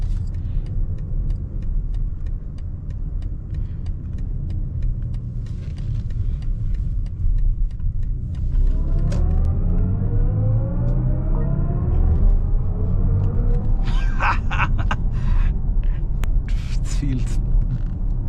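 A 2026 BMW i7 in sport mode gives off a synthesized driving sound that rises in pitch as it accelerates through the city, over a steady low road rumble. Sharp creaks and clicks come in near the end.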